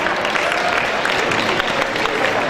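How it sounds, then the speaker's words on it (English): An audience applauds the contestants who have stepped out on stage, a steady, dense wash of many hands clapping at a constant level for the whole stretch, with no voices above it. "Round of applause for all the contestants."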